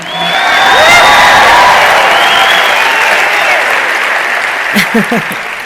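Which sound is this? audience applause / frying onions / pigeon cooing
audience applause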